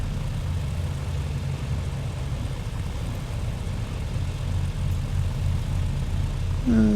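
A BN-2 light plane's engines drone inside the cabin, a steady low propeller hum with a throbbing pulse that stays loud and even throughout.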